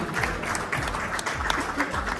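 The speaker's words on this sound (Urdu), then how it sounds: "ان کے لیے تالیاں ہونی چاہیے" Audience applause at a community function held by the Muslim League N in Scotland, honouring the host who serves the food, a dense continuous clapping that fills the room at close range.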